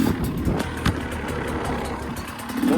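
A motocross or enduro motorcycle engine runs steadily and fairly loud at an Australian track, with a brief rev near the start and a rising whine of acceleration at the end.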